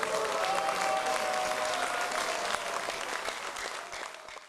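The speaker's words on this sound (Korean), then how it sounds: "2022년 국회의원 연찬회를 의원님들의 큰 박수와 환호로 시작하겠습니다" Lawmakers at a 2022 National Assembly members' conference fill the hall with sustained, dense applause. Crowd noise sits underneath, and the clapping holds steady before gradually tapering off toward the end.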